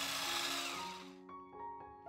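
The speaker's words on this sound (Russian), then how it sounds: "Пакетик разрыхлителя, это 10 грамм, я замешиваю блендером." Blender mixing cake batter of flour and baking powder for a Greek zucchini pie, a loud whirring motor that fades out after about a second, leaving faint ringing tones.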